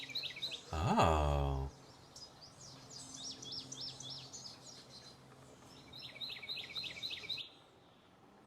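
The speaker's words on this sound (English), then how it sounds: "You know, I think that is a Carolina wren." A Carolina wren sings loud, rapid repeated chirping phrases in two bursts, clear and fairly near, after a brief spoken exclamation.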